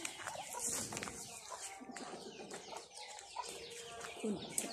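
Chickens and ducks offered for sale at a market cluck and chirp continuously, close by, over a murmur of crowd noise and faint voices.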